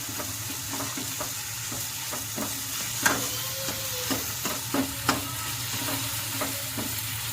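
Cauliflower and potatoes cook in oil in a Punjabi-style aloo gobi, a steady sizzle under repeated scraping stirs and a few sharper clinks against the pan, close up and without speech.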